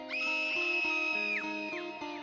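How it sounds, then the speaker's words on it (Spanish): A high, sustained scream of terror rings out, the voice pitched harmonic-rich and held for about two seconds before breaking into a few shorter wavering cries, set in mine tunnels. "Un grito que atravesó toda aquella red minera."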